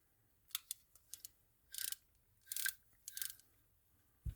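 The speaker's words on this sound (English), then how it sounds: "Spin that thumb screw up like so." A thumb screw spun up on a 1960s Penn Squidder 140 surf casting reel makes a quiet, close series of small metallic clicks and short ratcheting bursts, with no talking.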